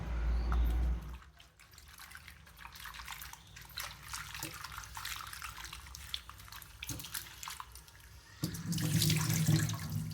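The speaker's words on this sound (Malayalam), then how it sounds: "ഇനി നമുക്കിതിനെ നന്നായിട്ടൊരു മൂന്നാല് പ്രാവശ്യം കഴുകിയെടുക്കാം" Running water streams steadily from a tap for several seconds, with light splashing and handling sounds as potatoes for French fries are rinsed beneath it.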